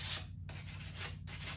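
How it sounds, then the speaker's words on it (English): A wooden chair is hand-sanded, with quiet, rhythmic scratchy rubbing strokes and brief pauses between passes, heard faintly and close up. "we're just going to sand this down in a few spots, give it the look we're wanting"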